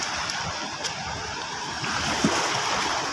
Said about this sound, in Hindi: ये पानी की ये लहरें देखें